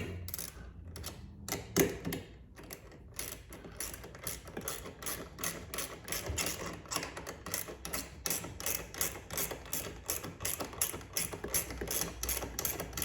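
Rapid ratchet clicks sound up close as a strap is cinched on a waterproof rooftop storage box atop a Toyota 4Runner, a quick run of sharp mechanical clicks followed by steadier, evenly paced ratcheting strokes.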